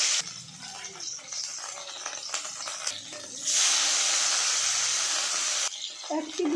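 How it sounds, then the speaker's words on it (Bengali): Bata fish drop into very hot mustard oil in a wok, and after soft clatter a loud, steady hissing sizzle bursts up and holds for several seconds before easing off. "এখন গরম তেলের মধ্যে মাছগুলো দিয়ে"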